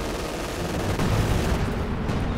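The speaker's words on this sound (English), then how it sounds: "Taking a bit of anti-tank gunfire." Anti-tank gunfire and battle booms in a Company of Heroes 2 match, a dense continuous barrage of shots and rumbling impacts, loud with no gaps.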